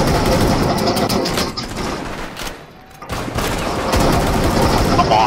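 Rapid automatic gunfire from Rainbow Six Siege gameplay, dense bursts of shots that briefly drop away to a lull before resuming loud and continuous.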